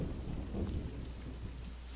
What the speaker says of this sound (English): Set weather... I think it was 5 will give you a thunderstorm.